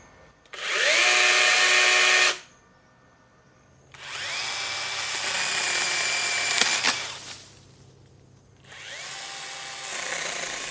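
A Bosch GKE 18V cordless chainsaw whirs loudly in three separate bursts, spinning up, running steadily for a couple of seconds, then cutting out, with quiet gaps between.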